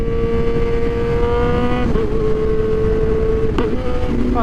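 A motorcycle engine drones loudly at steady revs while the rider downshifts to slow down, with short rev blips at each gear change as engine braking holds the bike back.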